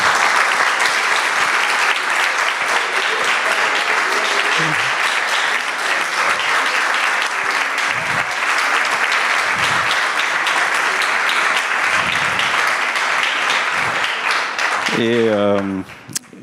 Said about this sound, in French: ils peuvent se lever, on va les applaudir aussi